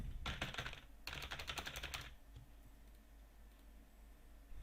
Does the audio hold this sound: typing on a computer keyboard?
yes